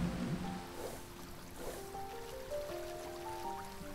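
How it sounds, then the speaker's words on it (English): Water flows in the video game Silentown, a soft continuous trickling stream under faint tonal game music, quiet and steady. "Hey, the water's flowing."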